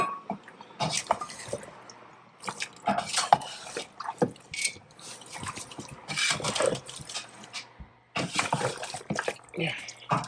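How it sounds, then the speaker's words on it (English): Water pours into a cooking pot for Christmas jollof rice in several splashing, trickling bursts with short pauses, heard close up with some talk in the background. "I'll be adding water because I need the water to cook the rice itself."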